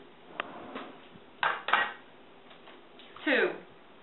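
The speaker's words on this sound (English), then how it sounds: "I'm going to crack 2 eggs in here." Eggs are cracked one after another against a bowl holding a peanut butter coconut batter, a few sharp close taps and cracks with brief clinks and a short scraping pour between quieter gaps.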